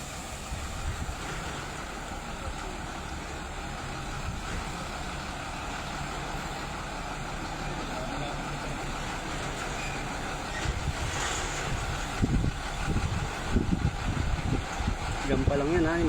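Trucks roll through deep floodwater in Pampanga, a constant low engine drone with washing and splashing water that swells louder toward the end as a vehicle passes near, with a person talking over it.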